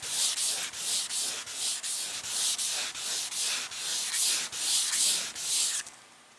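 Car clear coat being wet sanded by hand with 1500 grit sandpaper to flatten orange peel: a steady run of about a dozen rhythmic, close rasping strokes that stops abruptly near the end, with no talk.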